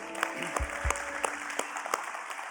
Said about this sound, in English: That's worth clapping for right there.